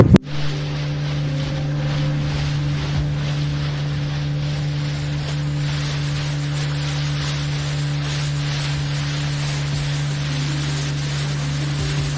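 Motorboat engine droning steadily on a ride across Maithon reservoir toward Sabuj Dwip island, a low continuous hum with wind buffeting the microphone and faint water wash, no talk.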